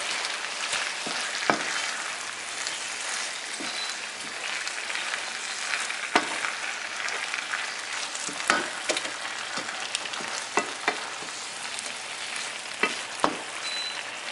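Shrimp fry in a pan with a continuous crackling sizzle, punctuated by sharper pops and occasional stirring clatter, close and steady throughout.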